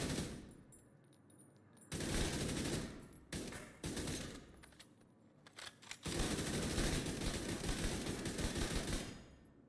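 Assault rifle firing in The Division 2, loud rapid automatic bursts in several long strings separated by short pauses, with no talk.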